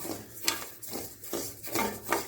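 Dry raw rice scrapes and rustles against a pan as it is dry-roasted and stirred, in repeated rhythmic strokes, close up and fairly quiet.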